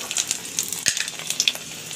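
Panch phoron and a dried red chili tempering in hot oil give off a light crackling sizzle, with scattered pops and spits over a couple of seconds, close and fairly quiet.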